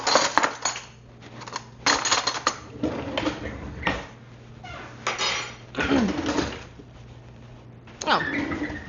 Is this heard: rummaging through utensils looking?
yes